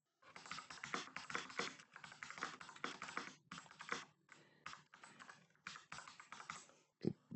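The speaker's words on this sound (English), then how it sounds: "let's test the keyboard to see how it feels like when I'm just typing in some general stuff" Keys clatter on a T-Wolf gaming keyboard in steady close-up bursts of rapid typing, with brief pauses between runs and no voices.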